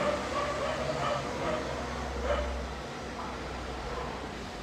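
A dog barks loudly and keeps yipping and whimpering under steady, dense background noise, with voices murmuring in the room throughout.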